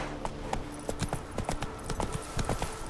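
Roach the horse trotting in The Witcher 3, hooves clopping in a steady, fairly quick rhythm of close, distinct beats over a low ambient bed.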